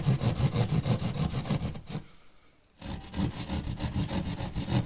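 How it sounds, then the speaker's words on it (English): A hand keyhole saw cuts through drywall in a steady back-and-forth rasp, close and loud, pausing briefly midway before the strokes resume. "This is just a keyhole saw,"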